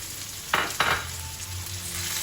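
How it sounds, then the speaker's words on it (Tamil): Steady frying sizzle from hot oil in a pan as chopped shallots sauté, with two brief louder bursts of crackling as they are stirred, no voices. "இப்போ இதை நல்லா வதக்கி விட்டுறணும்"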